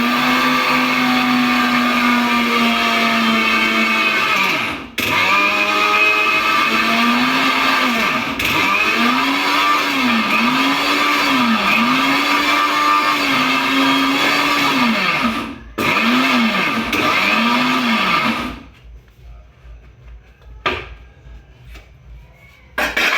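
A kitchen mixer grinder grinding sesame seeds for til ladoo, a loud whining motor hum that runs in bursts with rhythmic pulsing surges and short pauses, then stops, leaving faint clatter.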